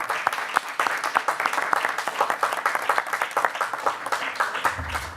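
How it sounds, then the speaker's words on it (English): A round of applause at a school board meeting for a girls' basketball team; many hands clap in a steady, fairly close burst across the whole stretch, with no speech over it. "Let's give them one more round of applause"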